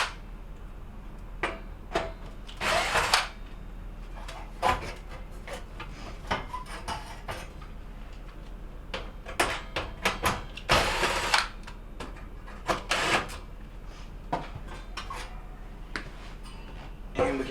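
A 1/4 inch nut driver backs screws out of the front panel of a GE stove. The result is a quiet, intermittent scraping and clicking, with brief louder rasps at scattered moments.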